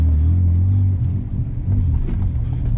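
Inside a BMW 335i N54 six-speed manual in first gear, a deep engine drone and cabin rumble surge and dip unevenly as the car bucks on throttle, close and loud, without talk.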